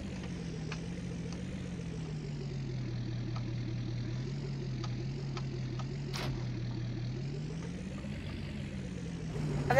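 A Ford turbo diesel truck in Farming Simulator 19 idles with a steady, close, rumbling chug that stays even throughout, with a few faint clicks.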